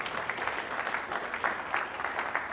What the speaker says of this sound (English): another hand of applause for Rohit